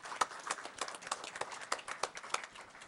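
A modest audience at a township council meeting claps for the police department, a thin, uneven patter of individual hand claps at moderate distance.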